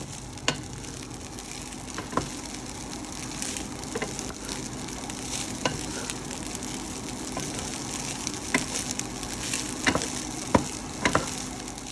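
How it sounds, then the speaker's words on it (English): Bacon fried rice with egg sizzles steadily in a hot pan as it is stir-fried, with a constant frying hiss and occasional clicks of the spatula scraping and tossing the rice. "Add your bacon, stir fry the fried rice."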